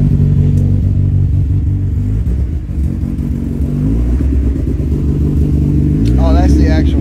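A turbocharged Mazda Miata, running for the first time, idles with a loud, close exhaust rumble that wavers and rises into a brief rev near the end, with people talking faintly over it.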